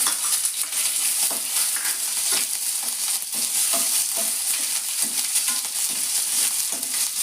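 Curry leaves and green chillies spluttering in hot oil for avalakki susla, a loud, dense crackling sizzle with scattered pops and stirring scrapes, close and continuous.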